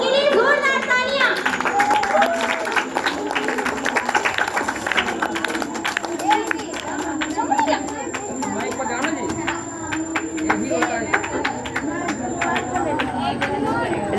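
An audience at a school event claps for Ankit Kumar of class 3, a loose scatter of hand claps and chatter mixed with children's voices that carries on steadily throughout, with people talking over it.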